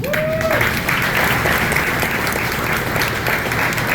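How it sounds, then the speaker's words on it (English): A crowd applauds steadily and loudly at the grand opening of a Publix supermarket in San Marco, with sustained clapping throughout and a brief whistle near the start. "One more round of applause."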